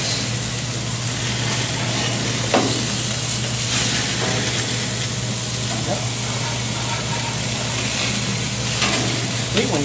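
Burgers sizzle loudly on a hot grill, a constant dense hiss with a few sharp scraping clicks as the patties are flipped, and a voice talks faintly underneath.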